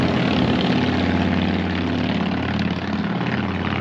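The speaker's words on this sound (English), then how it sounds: "and so we get a lot of motorcycles going past here" Harley motorcycles pass during rally week in Rapid City, a loud, close, sustained engine roar and rumble that swells and eases slightly, with no talk.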